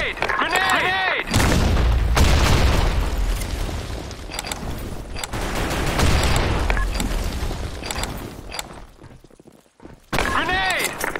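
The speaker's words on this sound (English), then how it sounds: "Grenade! Grenade! Grenade!" Grenade blasts in the Blackshot online shooter game: two loud, deep booms, each trailing off into a long rumbling roar, with shouting voices at the start and end.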